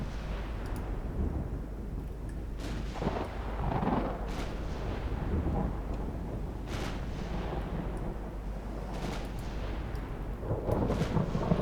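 Rumbling, thunderous booms from 11-inch naval guns in Ultimate Admiral: Dreadnoughts, several heavy salvos rolling out over a continuous low battle rumble, with bursts around the third, seventh and ninth seconds and louder fire near the end.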